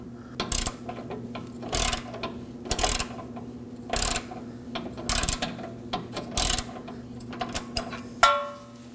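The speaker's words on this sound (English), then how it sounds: "we're gonna use a 21mm socket to remove the nut" A ratchet with a 21mm socket turning a control arm nut on a 2017-2024 Nissan Armada, six short bursts of rapid clicking separated by pauses, close and crisp, ending with a metallic clank.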